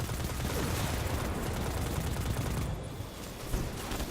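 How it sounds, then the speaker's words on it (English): Scout rifle and assault rifle gunfire in Destiny 2, a fairly faint continuous stream of rapid shots with a short lull near the end before firing resumes. "But I can now have my scout rifle here and an assault rifle that does elemental damage."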